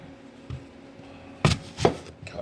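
A knife chops through a Granny Smith apple with its skin left on, making two or three crisp, close cuts that land on a cutting board, with no voices over them.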